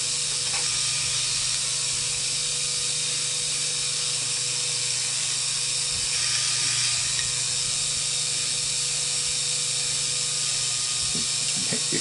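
BeamNova electric wire stripper running: a steady, even mechanical whir with a constant hum and a few faint clicks, fairly quiet, close, and without talking.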